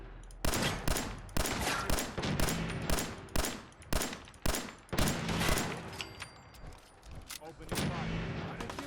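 Rapid bursts of gunfire from Preston in Fallout 4, sharp repeated shots and volleys crackling one after another throughout, loud and dense with little pause between them.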